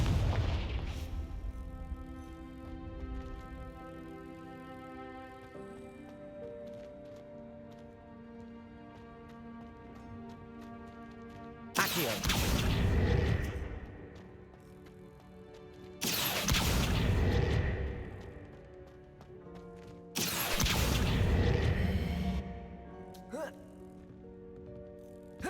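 Confringo blasting spells exploding in Hogwarts Legacy, three loud booming bursts spaced a few seconds apart over a steady background music score.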